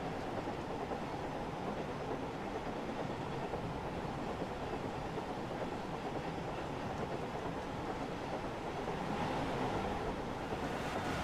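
A Pendolino train rushing past in the railway game Train Sim World 5, a continuous dense rumble with wheel clatter holding steady and swelling slightly near the end, heard alone with no talk.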